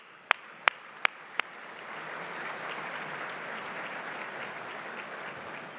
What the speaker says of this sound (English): I'd love to give a round of applause to everybody that organized this.